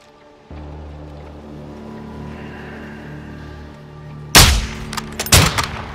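Two sharp sniper rifle shots crack out in Call of Duty Modern Warfare II, loud and close, about a second apart, after a low steady ambient hum. No voices are heard.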